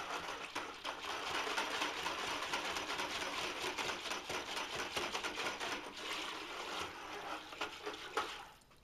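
A whisk stirs pottery glaze in a bucket, giving a quiet, steady liquid swishing and fine rapid rattling that continues evenly, faint and close.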